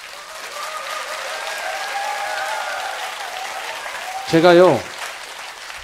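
Audience applause for a singer at her welcome night, a steady wash of clapping throughout while someone speaks over it, with a brief louder burst of voice near the end.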